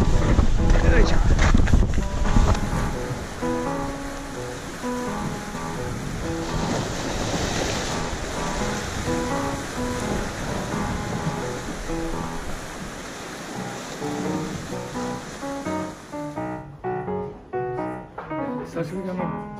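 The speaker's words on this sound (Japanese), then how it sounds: "波かかれます。" Ocean waves splash and wash around a boat in a steady, loud rush of surf and wind, with people talking over the noise until the roar drops away near the end.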